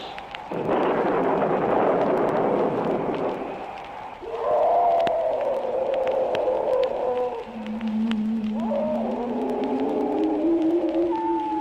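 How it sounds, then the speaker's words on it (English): A loud thunder clap with rumbling noise bursts out on a 1970s cereal-box ghost-story record, followed by eerie wavering tones and moaning, sliding sounds that rise and fall. "there was a huge clap of thunder with lightning and horrible sounds"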